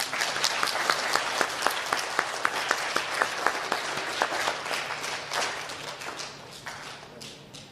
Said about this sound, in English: Let's give our second, third graders one more round of applause.